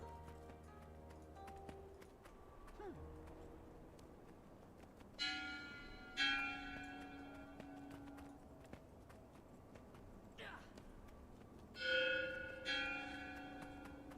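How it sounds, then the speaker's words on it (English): Bell chimes at a shrine in the video game Guild Wars 2: End of Dragons, several separate rings with long sustained tones, two close pairs of strikes spaced a few seconds apart over soft ambient game sound. "Oh my god, I love these bell sound effects for what it's worth."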